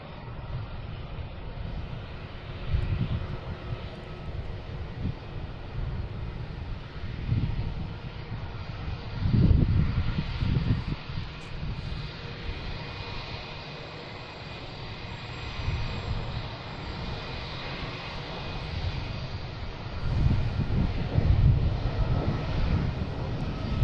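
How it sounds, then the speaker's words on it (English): An American Airlines jet takes off from runway 33 at Boston Logan, a distant, steady engine roar with rumbling swells, heard alone over light wind. "American taking off here on 3-3"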